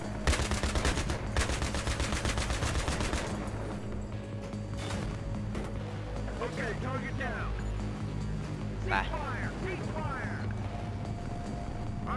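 Rapid bursts of Battlefield 3 gunfire crackle loudly during armored vehicle combat, then give way to explosions and clattering effects while a voice talks excitedly throughout.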